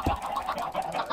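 Game chicken clucking in a Minecraft-style survival server, a quick run of short, bright, repeated clucks with a low thump at the start, fairly loud and steady with no talking over it.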